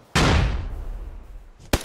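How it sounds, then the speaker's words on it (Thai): AK rifle fire in a competitive first-person shooter scrim match: a loud, sharp burst of shots that rings out and decays, then a second quick cluster of rapid shots near the end. "AK คูณ3ครับอัดไป"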